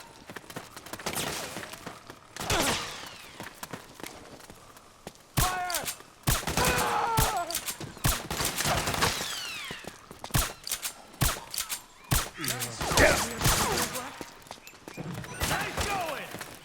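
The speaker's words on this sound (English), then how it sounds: "Suppressing fire!" Rapid bursts of gunfire and suppressing fire in Metal Gear Solid 4 crack through a chaotic battle, irregular volleys near and far, with shouting voices and clattering movement mixed in.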